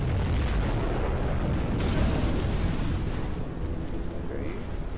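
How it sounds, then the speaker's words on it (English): A nuclear missile explodes in a strategy video game match, producing a continuous, loud roaring rumble that fills the whole stretch with little change. "A nuclear missile has been used."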